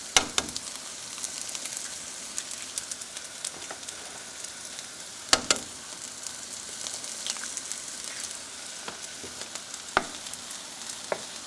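Three eggs frying in butter in the middle of a pan of fried rice, a steady close sizzle with crackles and occasional sharp pops, no voices.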